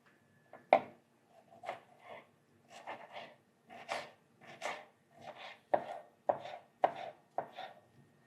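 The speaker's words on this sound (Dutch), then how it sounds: "Salade gaan we mooi in brunoise snijden" A knife dices tomatoes on a cutting board, a series of sharp close knocks in an uneven rhythm with short pauses between bursts.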